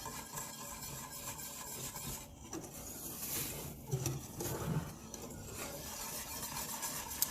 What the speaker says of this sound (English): you just want to keep whisking until all the clumps are out